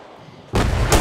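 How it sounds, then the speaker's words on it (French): A grenade in a video game goes off with a sudden loud blast halfway through, after near-silence. The boom sustains briefly and then surges again at the end. "moi aussi j'ai balancé une grenade, je sais juste pas si elle explose ou pas"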